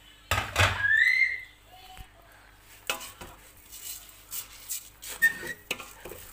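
Risotto rice being stirred in a pot, with scattered scraping and clinking knocks of utensil on the pan in uneven bursts, fairly close, alongside faint squeaky sounds and some background noise.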